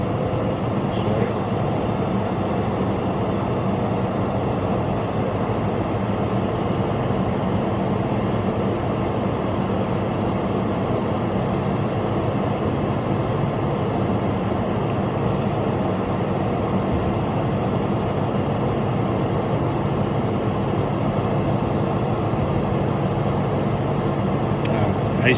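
A Primax BE machine runs in pump down mode, giving a steady, loud mechanical roar and hum that holds constant throughout with no breaks.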